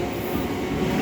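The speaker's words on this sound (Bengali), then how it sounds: "গাইস দেখো ট্রেন ঢুকে গেছে" A train rumbles close by as it pulls into a station, with a heavy low roar and metallic rolling noise, steady and loud for the whole moment.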